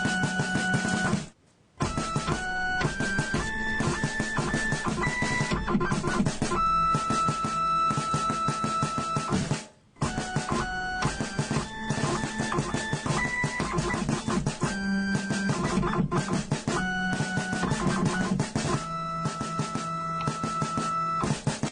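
A Hewlett-Packard scanner's stepper motor whining out a melody, shrill buzzing pitched notes in a continuous tune with two brief gaps, harsh and piercing, with no voices.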